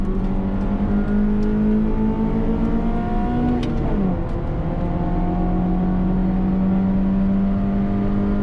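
A cheap Honda Civic racing at Silverstone under full throttle, the engine droning loudly and steadily from inside the car, with the pitch dipping briefly mid-way before climbing again.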